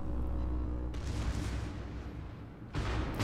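Rapid booming gunfire from a French battleship's secondary battery pounding a burning Yamato in World of Warships, dense rolling blasts loud and continuous with a fresh burst near the end.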